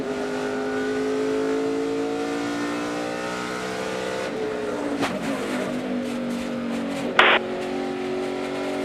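A NASCAR race car engine idles and revs in the garage area at the 2012 AdvoCare 500 in Phoenix after the car hit the wall, a steady droning note that dips in pitch, with a sharp brief burst near the end.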